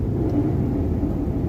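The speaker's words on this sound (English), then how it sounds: "So I'm actually engine braking right now" A Ford Foxbody with a swapped T5 transmission engine braking while driving, a low, steady engine rumble heard from inside the car with no talking.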